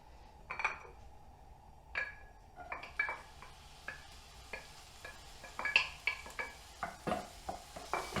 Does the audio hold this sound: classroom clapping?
no